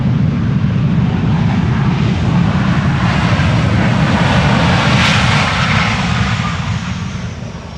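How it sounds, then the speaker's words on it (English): A Ryanair Boeing 737 landing at Schiphol Airport with thrust reversers deployed: a loud, sustained roar of engine noise that holds steady for several seconds, then gradually fades. "When you use the reversers on these airplanes, they still get loud."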